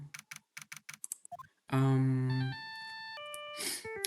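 A phone ringtone from the Phoenix Wright: Ace Attorney video game sounds loud and sustained as a bright, steady electronic melody, entering after a run of short rhythmic blips and continuing to the end without speech.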